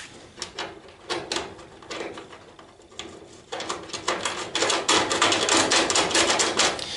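Bolts fastening a Xantia seat support into a Citroën Traction 11B give a close run of rapid metallic clicks and rattles, like a ratchet wrench, which grow louder and denser toward the end.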